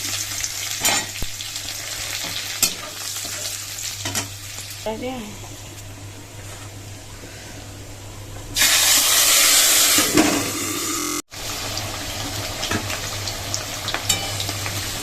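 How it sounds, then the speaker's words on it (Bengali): Oil sizzles steadily with occasional stirring scrapes, then a louder burst of frying hiss as dry red chillies and garlic hit the hot oil, continuing close and loud. "ওই তেলের মধ্যেই দিয়ে দিলাম শুকনো লঙ্কা আর হচ্ছে রসুন ফোড়ন।"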